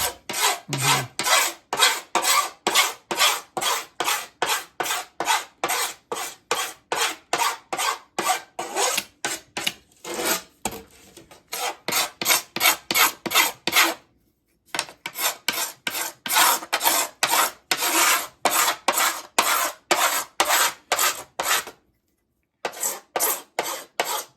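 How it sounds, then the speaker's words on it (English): Glue is scraped and sanded off wooden guitar kerfing, giving a steady run of loud, rhythmic rasping strokes close up, with two short pauses partway through. "I'm going to scrape the glue off."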